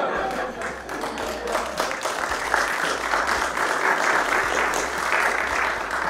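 Audience applause fills the whole stretch, dense steady clapping at a fairly loud, even level with no pauses.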